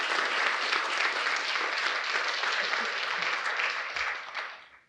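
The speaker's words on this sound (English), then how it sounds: "That deserves a huge wave of applause." A conference audience breaks into sustained, dense applause from many hands, holding steady for several seconds before tapering off.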